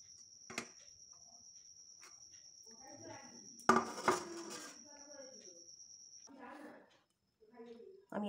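Metal utensils clink and scrape faintly while ghevar batter is strained, with a louder clatter midway, talk in between, and a steady high whine underneath.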